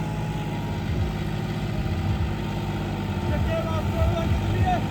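John Deere 5210 4x4 tractor engine working under heavy load in a field, a loud, close, throbbing low rumble with shifting pitch as people talk over it.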